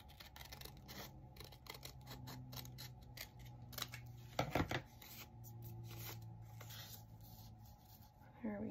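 Scissors snip through a paper tag in a run of quick, faint cuts, close by and soft, with a louder rustle of handling the paper partway through.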